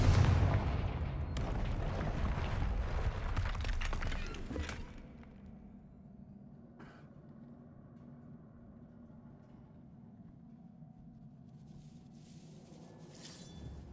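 Confringo fire blast spell from Hogwarts Legacy, a loud booming burst in the opening seconds that cuts off sharply, leaving a quiet low rumbling game ambience with a few faint later hits.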